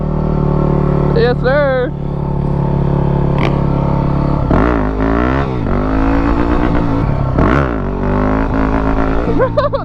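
A supermoto motorcycle ridden around a front flip loop, its engine droning loud and close with rising and falling revs throughout, while riders talk and shout over it.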